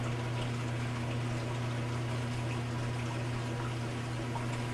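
A Kenmore washing machine under repair for overflowing drains water during its spin cycle, making a constant rushing pump whoosh over a low steady mechanical hum, unbroken and fairly loud throughout.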